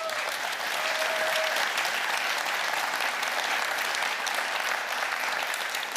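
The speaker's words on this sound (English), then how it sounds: "I'd like to ask you for a great applause for the migration team" Sustained, dense applause from a large conference audience honoring a network migration team, loud and steady throughout with no break.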